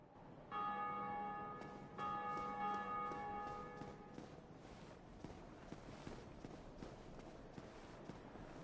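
Church bells ring in Blighttown in the video game Dark Souls, two clear tolls with long ringing overtones, followed by a stretch of footsteps and ambient game noise.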